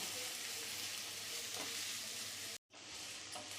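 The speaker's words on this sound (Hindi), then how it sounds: "तो एक बार प्याज को भी अच्छे से भून लेते हैं।" Onions for a vegetable spring roll filling frying in a pan, a dense, even sizzle heard close up with faint stirring, cut by a short break near the end.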